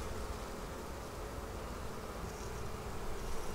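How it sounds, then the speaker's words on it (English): Honey bees angered during a hive inspection while Flow Hive supers are added, buzzing in a thick, continuous swarm drone close to the listener, steady and fairly loud throughout, with no voices. "Except I've angered the bees now."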